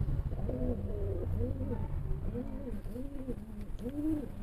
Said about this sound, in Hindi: ये ब्रीडर कबूतर हैं जी।